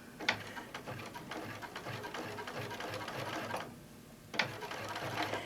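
A sewing machine stitches a zigzag seam on apron binding, its rapid, rhythmic needle chatter running steadily, pausing briefly, then starting up again, all at a fairly quiet, close level.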